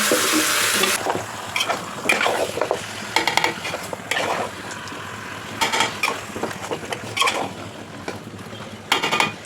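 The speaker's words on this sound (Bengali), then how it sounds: "হাতে মাংসটা দিয়ে দিচ্ছি মাখানো" Marinated home-raised duck meat sizzles in a pan, with a burst of frying as it goes in, then repeated scraping and clattering strokes of stirring over a steady hiss.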